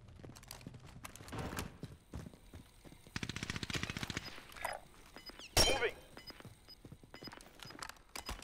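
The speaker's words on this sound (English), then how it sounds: "I'm taking fire!" Rapid bursts of machine gun fire from the video game Call of Duty Warzone rattle in short clusters, with one louder sharp shot partway through, while game voice lines and effects play in between.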